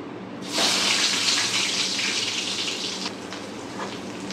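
Chopped onion hits hot oil in a pan for a tangy pangas fish curry, a sudden loud hiss that stays bright and steady, then eases slightly as the sizzle settles.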